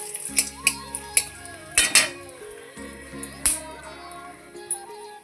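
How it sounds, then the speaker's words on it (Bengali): Bay leaf and dried red chilli tempered in hot oil in a pan, with repeated metal spoon clinks and scrapes stirring through a soft background sizzle, close and fairly loud, with low music running underneath. "তেল গরম হয়ে গেছে এবার দিয়ে দিচ্ছি ফোড়নে তেজপাতা শুকনো লঙ্কা একটু নেড়ে চেড়ে নিচ্ছে"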